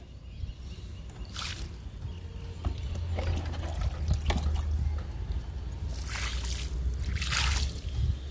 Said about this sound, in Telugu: వాటర్ పోస్తున్నాను.